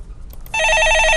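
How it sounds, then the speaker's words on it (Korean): A telephone rings on a Korean stock-market call-in radio show: a bright, electronic warbling ring starts abruptly after a brief quiet moment and continues loud and steady. "네, 전화 받아보겠습니다."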